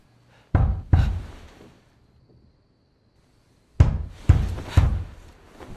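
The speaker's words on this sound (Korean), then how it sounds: "밤늦게 누군가 집 문을 두드리는 소리가 들립니다." Knocking on a house door at night: two loud, close raps, a pause of silence, then three more heavy knocks in an uneven rhythm.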